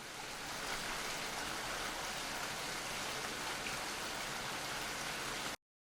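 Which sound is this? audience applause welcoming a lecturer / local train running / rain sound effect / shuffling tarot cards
rain sound effect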